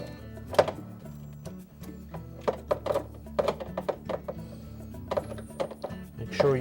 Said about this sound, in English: And then we'll tighten that clamp.